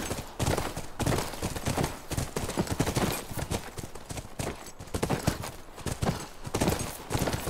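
Horse hooves clip-clopping in The Last of Us video game, a fast, steady run of close, loud hoof strikes continuing throughout with a rough, gritty texture.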